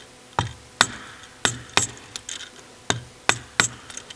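Sharp metallic taps strike a lock tab on a Porsche 902 transmission shaft as it is bent down, about nine hits in an uneven rhythm, close and crisp.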